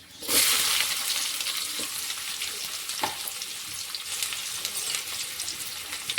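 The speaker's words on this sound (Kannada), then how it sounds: "ಇವಾಗ ಸ್ವಲ್ಪ ಈರುಳ್ಳಿ ಸ್ವಲ್ಪ ಫ್ರೈ ಮಾಡ್ಕೊಳ್ಳೋಣ" Onion sizzling in hot oil with curry leaves, cumin and mustard seeds for a vegetable and pea kurma gravy, a steady close frying hiss throughout with a few soft stirring clinks.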